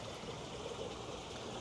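Water running steadily from a water line that feeds a cutting cylinder with welded diamond teeth, a continuous trickling, splashing rush at moderate level with no talk.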